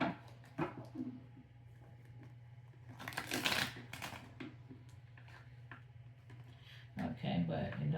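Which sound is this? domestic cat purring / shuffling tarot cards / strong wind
shuffling tarot cards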